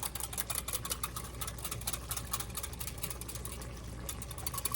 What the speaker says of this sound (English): And I got me a little whisk here. And I'm going to stir it up.